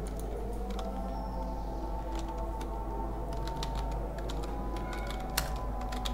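Someone types a company name on a computer keyboard while designing a brochure in Illustrator, a quick, irregular run of close key clicks with a few sharper taps over a low steady hum.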